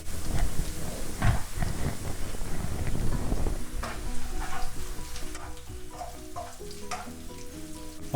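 Sliced green chillies fry with ginger and garlic in hot oil for a prawn masala, a dense close sizzle that loudly crackles at first and then settles to a lighter hiss with faint background music.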